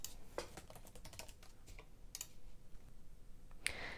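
Quiet, close typing on a computer keyboard as a blog comment is entered, a run of irregular light key clicks with a few sharper taps near the end, no voices.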